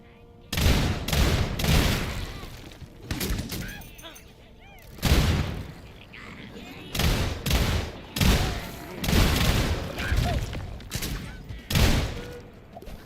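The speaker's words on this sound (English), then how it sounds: "This thing that was originally a burst fire SMG, that is now a shotgun. With exploding bullets." A shotgun loaded with exploding bullets fires in the video game SULFUR, about ten heavy booming blasts in uneven bursts, each with a rumbling explosive tail, loud and close.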